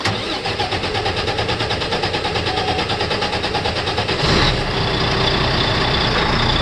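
A truck's engine cranks and starts during a pre-trip in-cab test, with the brake set and the transmission in neutral, then settles into a loud, steady, rumbling idle.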